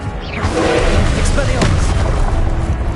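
The Confringo spell goes off in the Hogwarts Legacy video game as a loud, close booming blast with a rumbling burst that holds for a few seconds while a voice is heard.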